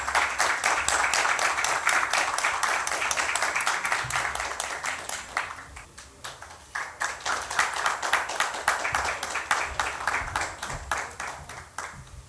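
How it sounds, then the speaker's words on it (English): Sustained audience applause at a literature festival in Odisha, dense loud clapping that dips briefly midway then swells again, continuing with no one speaking. "Audience, can we have a big round of applause,"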